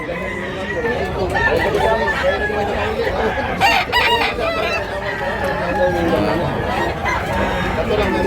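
At a rooster market in Tabunok, Cebu, cocks crow repeatedly over a steady murmur of crowd chatter, with people talking nearby throughout.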